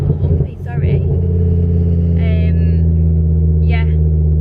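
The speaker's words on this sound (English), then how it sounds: "Oh, the noise of the car as well." Modified Ford Focus ST engine droning loudly and steadily as it accelerates, a deep rumbling hum heard from inside the car, with someone talking over it.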